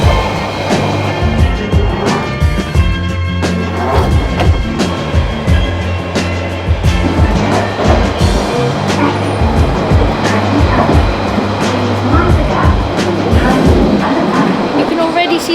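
Rumbling London Underground train riding toward the end of the line at Epping, a steady loud roar with clattering rail joints and rattles throughout, with a voice talking over it.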